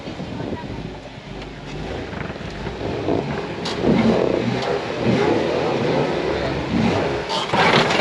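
A Jeep engine rumbles and revs while crawling slowly over an obstacle on the Potts Mountain trail, the drone rising and swelling through the clip with brief clanks, under faint talk.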